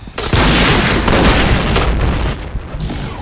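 Grenade blast in the Point Blank first-person shooter game: one loud, close boom that fills the whole clip with dense rumbling noise, then fades slightly near the end.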